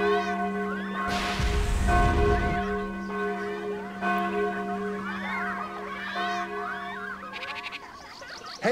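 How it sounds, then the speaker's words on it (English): Alarm bells ring in the PC video game Sudeki, sustained tolling tones layered with game music and ambient effects, a loud swell early on and the bells persisting under shifting background sounds. "Tal, the alarm bells are ringing"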